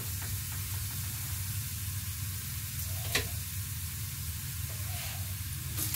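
Stuffed capsicum filling frying in a pan, a steady close sizzle and hiss that runs throughout with a faint stir or tap near the middle, no talking.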